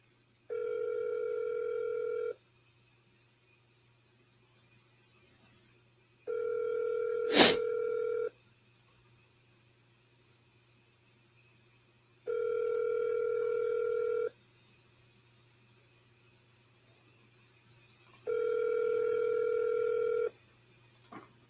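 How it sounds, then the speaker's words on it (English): Telephone ringback tone while calling someone, four long steady beeps evenly spaced with silent gaps, clear and close, with one brief sharp click between them. "we've been trying to get him back on the phone. So we'll see if he picks up."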